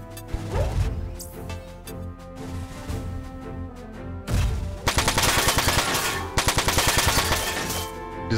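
Machine gun fire in the PS2 game Front Mission 4, a rapid rattling burst of shots that fills the second half, following a heavier impact and game sounds earlier.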